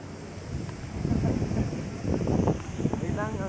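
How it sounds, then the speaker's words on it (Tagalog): Wind buffets the microphone at an open windmill site, making a steady gusting rumble with people talking underneath. "Mahangin pala dito."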